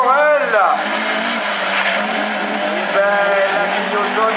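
A Honda rallycross race car launches from the start line, its engine revving hard with rising and falling pitch and tyre scrabble, loud and close, while a commentator talks over it.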